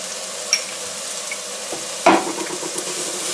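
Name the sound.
onions and garlic sizzling as they sauté in hot oil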